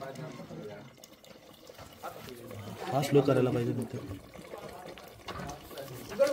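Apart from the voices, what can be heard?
hot water poured into cooking mutton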